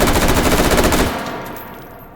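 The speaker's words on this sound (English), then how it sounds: "Looks like an M4, but does it shoot like an M4?" M4 rifle fires a loud, rapid full-auto burst in the VR game Hot Dogs, Horseshoes and Hand Grenades, a dense rattling stream of shots that stops abruptly and leaves a fading echo.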